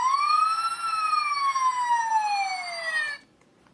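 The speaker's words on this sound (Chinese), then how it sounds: "啊，是有警笛的声音了。" A Takara Optimus Prime toy car from the Car Robots line plays its electronic police siren effect, a loud wailing tone with sweeping harmonics that rises, then glides slowly down before cutting off abruptly, leaving a brief quiet tail.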